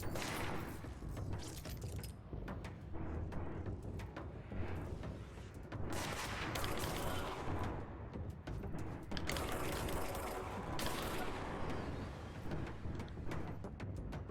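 Rapid gunfire from a weapon in the video game Control, sustained and dense, with several loud, continuous bursts running almost without pause.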